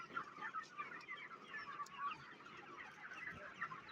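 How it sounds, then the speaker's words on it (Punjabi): A desi rooster of the Double FG type clucks softly and steadily while pecking at morning feed, a continuous low murmur of clucks close by with no voices. "ਇਹ ਡਬਲ ਐਫ ਜੀ ਮੁਰਗਾ ਫੀਡ ਖਾ ਰਿਹਾ ਹੈ"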